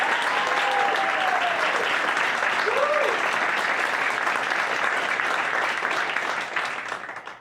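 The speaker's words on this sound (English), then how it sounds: "Please give another round of applause for Kai." Large audience at a student storytelling showcase gives sustained applause, a dense steady clatter of clapping that fades out at the end.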